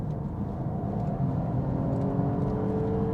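A Peugeot 408's 130 hp three-cylinder petrol engine pulls under acceleration, a steady, loud, even drone with a slowly rising whine heard from inside the car, without speech.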